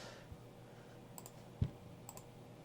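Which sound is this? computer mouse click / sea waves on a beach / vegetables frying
computer mouse click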